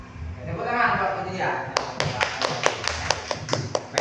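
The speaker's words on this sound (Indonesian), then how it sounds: "Tepuk tangan buat Julia." A few people clap in a quick, sparse run of sharp claps, following indistinct voices in a room.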